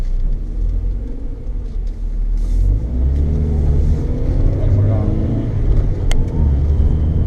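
Race car engines roar on a circuit as a Mini and a Toyota GT86 run close together, a steady loud rumble with rising revs as they accelerate.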